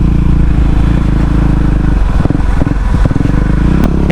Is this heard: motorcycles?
yes